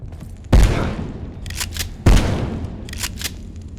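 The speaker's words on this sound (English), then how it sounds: "shotguns are a much better weapon to use against those guys" Two heavy shotgun blasts from the game Abiotic Factor, each a sharp close boom with a decaying tail, each followed by a pair of quick mechanical clacks from pumping or reloading.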